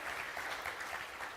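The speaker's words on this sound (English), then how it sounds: "I'm making you clap a lot today" Brief burst of audience clapping at the Ubuntu Summit 2022 conference, a continuous moderate patter of many hands with no voices over it.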